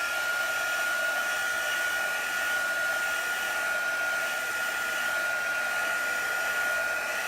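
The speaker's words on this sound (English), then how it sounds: "I'm just gonna heat this very quickly" A heat tool dries chalk paste on a wooden box frame, a steady loud whirring blow that runs unbroken and close throughout, with no voices.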